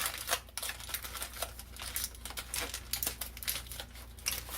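Aluminum foil crinkles and crumples as a chicken foil pack is folded up and sealed, with a steady run of close, crisp rustling and small crackles throughout and no talking.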